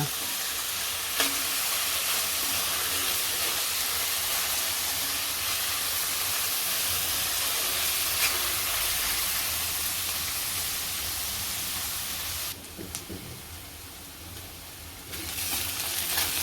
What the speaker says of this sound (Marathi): आता कांदा आपला परतला आहे गुलाबीसर झाला आहे